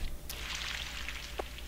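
Crops being watered in the video game Harvest Moon 64: a short, quiet splashing pour of water lasting about a second, with a small drip-like blip just after.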